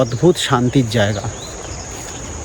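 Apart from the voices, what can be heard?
crickets chirping and birds calling in a forest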